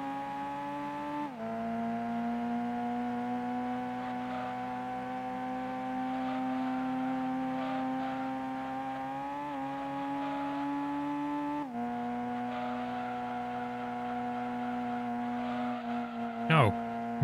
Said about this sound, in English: That's the best engine sound in the game.